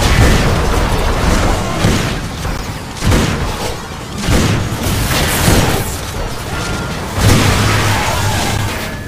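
Shotgun blasts in the video game Hard Reset, heavy booming shots every second or so over a loud, dense wash of game noise.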